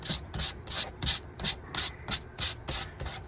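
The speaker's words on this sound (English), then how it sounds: "Now let's take a little bit of this sandpaper here, get around this" Sandpaper rubbed along an edge in about a dozen quick, even back-and-forth strokes, close and steady with a scratchy rasp on each pass.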